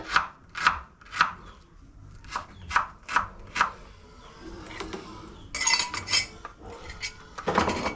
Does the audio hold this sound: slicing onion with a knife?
yes